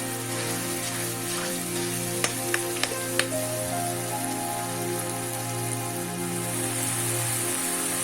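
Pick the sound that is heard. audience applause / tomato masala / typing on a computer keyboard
tomato masala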